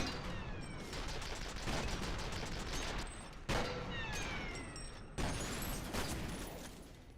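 Sustained automatic gunfire from the F.E.A.R. video game, a dense continuous fusillade with brief breaks, loud and close, with no talking.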